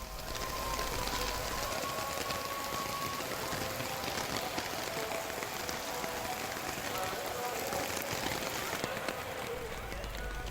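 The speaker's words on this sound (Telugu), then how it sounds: "పగలంతా ఎండ, రాత్రిపూట కుండపోత." Heavy night-time rain in Tirumala pours down as a dense, unbroken hiss of drops on hard surfaces, steady and loud from start to finish.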